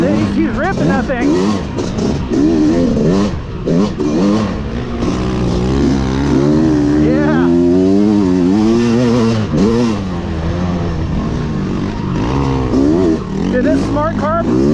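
A dirt bike engine revs hard and rises and falls in pitch as it accelerates, loud and close, with excited voices talking over it.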